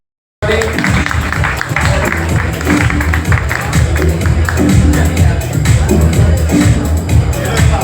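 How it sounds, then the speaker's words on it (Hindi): Applause and crowd noise fill a hall at the 4th MAMPACON medical conference in Andheri, a steady loud wash of clapping mixed with babble and some voices, continuing throughout. "जोरदार तालियां बजाएं"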